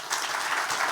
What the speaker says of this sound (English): Please give them a round welcome of applause.